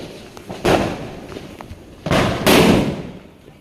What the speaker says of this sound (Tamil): இன்னைக்கு காலையிலேருந்து உங்களுக்காக மெனக்கட்டி இவ்வளோ வெடி போட்டிருக்கேன்